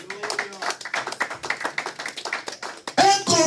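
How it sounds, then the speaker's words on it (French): A church congregation at a Sunday service claps together in a fast, steady rhythm of many hands, close and lively, with a voice rising over the clapping near the end. "Acclamez pour Jésus-Christ."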